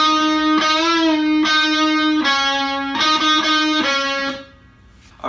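A distorted electric guitar plays a riff slowly: loud, sustained overdriven notes and chords in a halting rhythm, each ringing before the next, close and alone, fading near the end.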